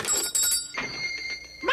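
A bell rings as a sound effect for the animated Mickey's Christmas Carol, bright repeated metallic tones in quick succession, fairly clear over a quiet background.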